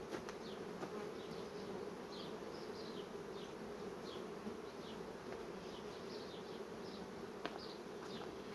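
Honeybees buzz steadily and densely at an open hive being fitted with foil and a divider so workers can reach the queen, a continuous close drone with no talking.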